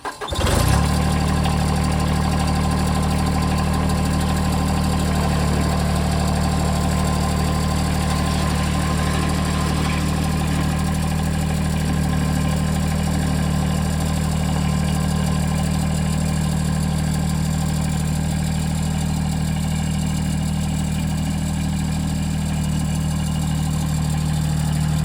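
A TYM 264 tractor's diesel engine cranks briefly and catches, then settles into a steady, loud, throbbing idle that runs on unbroken with no talk.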